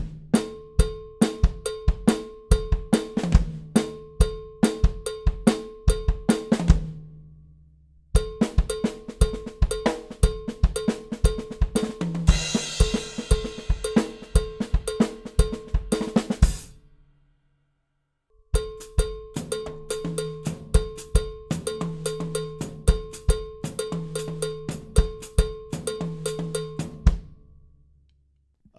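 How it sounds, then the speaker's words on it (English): Sampled Pearl El Negro series number 4 cowbell triggered from a Roland SPD1 pad over a drumset, three loud, close grooves of sharp metallic clanks with kick and cymbal, separated by brief pauses. "that sound is actually my cowbell that I sampled"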